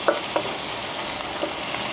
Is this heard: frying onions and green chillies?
yes